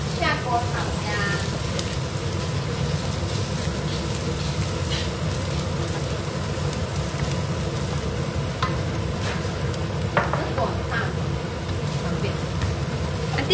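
Diced shiitake mushrooms stir-frying with minced ginger in hot oil in a home kitchen pan: a dense, constant sizzle with repeated scraping and stirring strokes, close and fairly loud.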